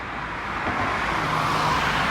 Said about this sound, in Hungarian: Az autók hajtanak fel a Rákóczi hídra, Buda felé.